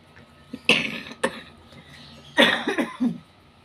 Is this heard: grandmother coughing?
yes